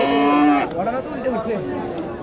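A loud, drawn-out moo from Friesian cattle close by, followed by low overlapping voices and more distant lowing, at a busy weekly cattle market in Bangladesh.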